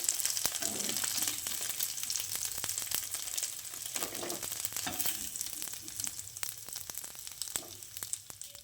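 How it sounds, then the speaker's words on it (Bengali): Paneer cubes frying in hot oil as they are lifted out and drained, giving a steady close sizzle with scattered clicks of a utensil, and no voices. "এবার ভেজে নেওয়া পনিরগুলোকে তেলটা ছেঁকে নামিয়ে নিচ্ছি।"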